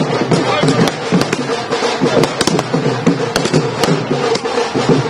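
Rapid crackling bursts of firecrackers set off by party workers celebrating an election win, popping continuously nearby, with people talking beneath the loud, uneven pops.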